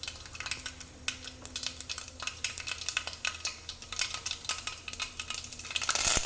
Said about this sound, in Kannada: ಇವಾಗ ಎಣ್ಣೆ ಹಾಕಿದ್ದೀನಿ ನೋಡಿ ಸಾಸಿವೆ ಹಾಕ್ತಿದ್ದೀನಿ